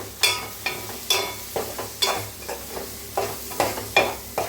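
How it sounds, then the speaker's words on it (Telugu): A spoon stirs turmeric into an egg and drumstick curry in a pan, with about a dozen close, regular scraping strokes over a soft sizzle of frying. "1/2 టేబుల్ స్పూన్ పసుపు, ఇది కూడా చక్కగా కలుపుకుందాం."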